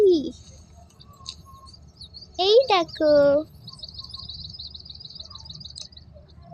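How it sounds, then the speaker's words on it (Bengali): Birds chirp in short, bright repeated notes throughout an outdoor setting, with a steady high twittering trill in the second half; someone speaks briefly over it in the middle. "শুনে কত সুন্দর পাখি"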